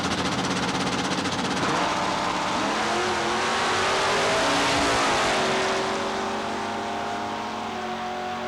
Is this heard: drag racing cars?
yes